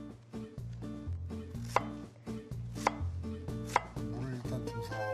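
Knife chopping radish on a cutting board for braised dried pollock, a run of regular thumping cuts with a few sharper knocks, close and clear, with no talking.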